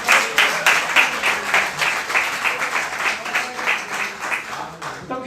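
A church congregation claps and applauds together in a sustained, lively burst of dense hand claps that fills the room from start to finish, with a few voices faintly mixed in.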